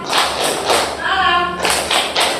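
A classroom group clapping in unison, sharp rhythmic claps in quick bursts with a short sung or spoken tone in the middle, close and fairly loud.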